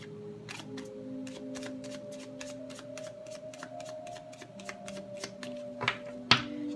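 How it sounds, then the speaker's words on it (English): A tarot card deck is shuffled in a quick run of about sixteen evenly spaced riffling snaps over a faint background hum, ending with a couple of sharper taps as the cards settle. "Last shuffle"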